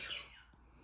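A pet bird gives one short, harsh squawk up close, fading quickly into quiet room tone, with no one talking over it.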